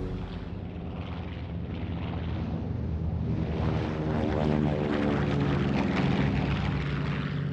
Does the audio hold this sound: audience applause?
no